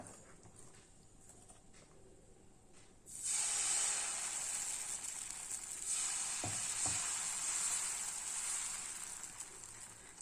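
Wheat rava adai batter hits a hot dosa griddle and bursts into a loud, steady sizzle that holds for several seconds, with a couple of brief knocks partway through.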